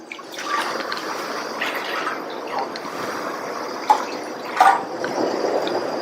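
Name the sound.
water poured into a pan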